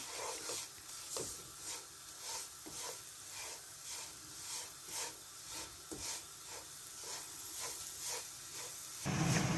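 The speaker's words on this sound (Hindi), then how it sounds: "ये 10 से 15 मिनट के लिए इसको भूनें" Semolina dry-roasting in a pan for suji halwa, a spoon scraping and stirring in steady repeated strokes over a soft continuous hiss, close and fairly quiet, with no talk.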